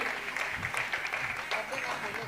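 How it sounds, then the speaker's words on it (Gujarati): An audience applauds the performing artists at a dance arangetram recital, with continuous moderate clapping and a voice faintly present beneath. "જોરદાર તાળીઓ એમને માટે સતત પાડ્યા કરજો"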